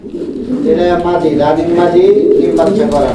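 A red indigo fancy pigeon coos at a pigeon farm. The soft, throaty rolling call is close and loud and fills the short moment.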